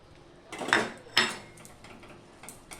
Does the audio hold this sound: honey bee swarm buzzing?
no